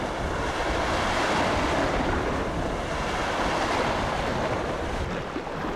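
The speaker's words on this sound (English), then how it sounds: "Each rolling wave crashes against the concrete structure, echoing like the fading rhythm of a journey just completed." Wake waves from a large container ship wash and crash continuously against a concrete river embankment, with a loud, steady roar of surf and some wind buffeting the microphone.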